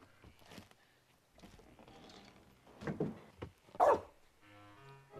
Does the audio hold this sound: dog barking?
yes